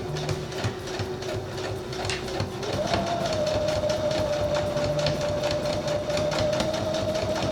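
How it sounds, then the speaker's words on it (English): Domestic sewing machine backstitching a quilt block: a steady close motor whir with rapid needle chatter that steps up in pitch and speed partway through, then runs on evenly, no talking. "Your sewing machine should have that button or a different way to backstitch"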